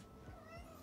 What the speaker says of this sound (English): if you can hear my cats in the background